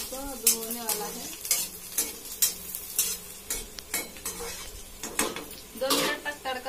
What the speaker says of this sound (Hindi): दो मिनट तक तड़का होएगा तो फिर उसके बाद मैं बनाऊंगी।